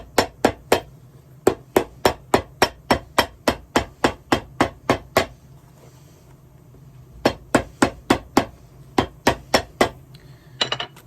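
A hammer strikes a hard surface over and over in a quick, steady rhythm, each blow sharp and close. The strikes pause briefly midway, then resume in another run, with no talking.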